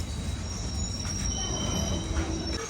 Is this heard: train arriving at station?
yes